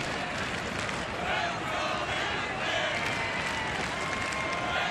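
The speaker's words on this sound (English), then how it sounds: "Some of them still here chanting for the Rangers down to their final out" A sellout crowd of about 48,885 at a Texas Rangers baseball game, late in the game against the Astros, makes a broad, even roar of chanting and cheering that fills the ballpark at a distance, with no break.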